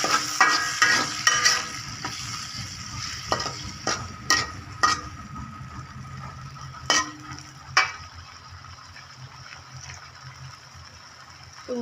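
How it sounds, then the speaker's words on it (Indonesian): Tongkol tuna sizzling in a hot pan while a utensil scrapes and stirs in repeated strokes, loud and close, then settling into a quieter, steady fry. "Lalu masukkan tongkolnya, masak sampai matang"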